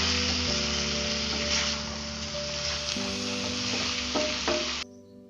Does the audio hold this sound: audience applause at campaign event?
no